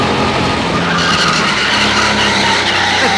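An indoor go-kart skids and slides on the track, its tires squealing steadily under a loud, close engine drone throughout.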